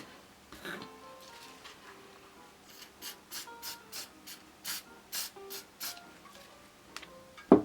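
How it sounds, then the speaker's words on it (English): Aerosol fixative sprayed onto a PanPastel cat portrait, a series of about a dozen short, evenly spaced hissing bursts close to the mic, with soft handling noises before and after. "So I'm going to spray that with my fixative."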